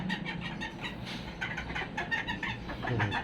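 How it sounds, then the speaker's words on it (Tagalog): Bantam chickens cluck steadily in their coop, several birds overlapping in a continuous, close, moderately loud chatter with no talking. "So ito yung ating bantam dito."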